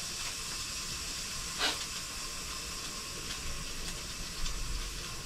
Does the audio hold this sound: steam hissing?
yes